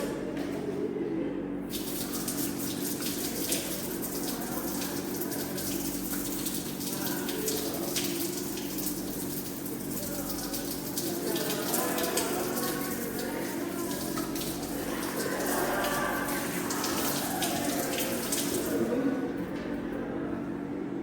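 Water runs steadily from a tap for the whole stretch, a constant close splashing hiss with slight shifts in flow.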